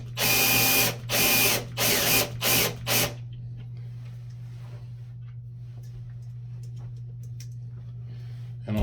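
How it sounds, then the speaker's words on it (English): A powered screwdriver drives screws into wall fasteners while a towel rack is being installed. It gives several loud, short whirring bursts in quick succession, then stops and leaves a low steady hum. "we just use our screwdriver again and start these"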